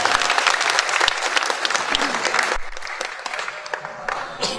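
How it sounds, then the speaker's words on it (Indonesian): Audience applause at the opening of a regional scouting workshop and gathering in Riau Islands, a dense burst of many hands clapping that continues steadily and thins slightly toward the end. "Tepuk tangan semuanya."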